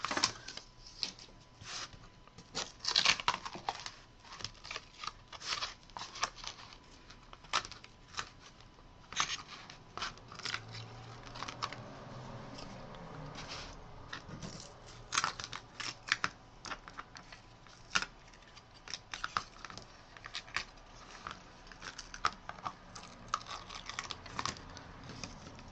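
A cutting machine slices plasticized glitter paper on a double-cut setting, tracing a pumpkin top shape: a steady run of rapid, close-up clicking and tapping with soft whirring movement underneath, no voices.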